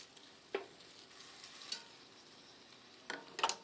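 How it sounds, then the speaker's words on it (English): Cooked spaghetti tossed in a pan with garlic and white wine, giving a quiet steady sizzle broken by a few brief stirring and scraping bursts from the utensil against the pan. "I'm just going to add the cooked spaghetti to the pan. We're going to toss this with our garlic and the white wine."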